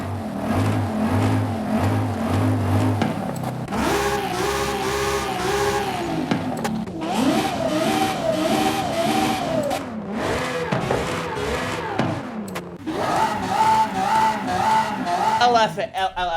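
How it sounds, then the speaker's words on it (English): Car engines in a racing video game, scrolled through engine swap options for an LFA, rev one after another in repeated rising and falling bursts, each swap bringing a different engine note. "Engine swaps. Let's scroll through these and rev them up."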